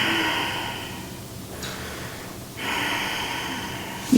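Ujjayi breathing done with the mouth closed and the throat contracted, heard as a steady, close, breathy hiss that fades out midway and then swells back for a second long exhalation, with no talking.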